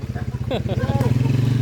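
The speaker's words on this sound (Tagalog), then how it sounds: "Ganda ng andar ng motor ng Uncle. TMS De Platino 200cc." A Honda TMS De Platino motorcycle converted to 200cc idles nearby with a steady throbbing putter, while someone talks over the engine.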